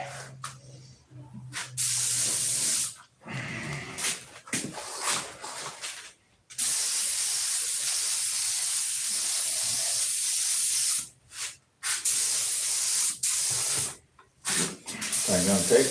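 Spray paint going on as a coat: long, loud, close hissing bursts, the longest lasting several seconds, broken by short pauses, with a voice heard faintly in the gaps.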